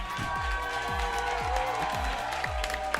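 Crowd noise at an Apex Legends esports tournament grand final in Toronto, a steady dense roar of cheering and clapping with scattered low thumps, loud and continuous throughout.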